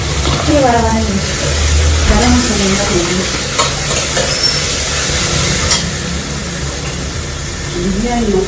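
Country chicken curry (naatukozhi kozhambu) with added salt being stirred in a pan, with loud scraping and a steady sizzle close up while someone talks over it.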